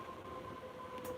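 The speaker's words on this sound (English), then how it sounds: "As the ghost train arrives to pick us up." A train pulls in at night, a faint, steady rumble with a sustained tonal hum that holds evenly for about a second, with no voices.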